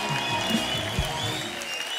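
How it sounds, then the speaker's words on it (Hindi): Studio audience on a comedy talk show applauds the arriving guests: steady, dense clapping that fills the whole moment at a fairly even level, with no voices on top. "जोरदार तालियां हो जाए हमारे मेहमानों के लिए।"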